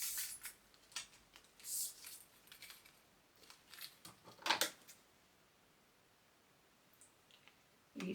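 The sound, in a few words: scissors cutting a fabric square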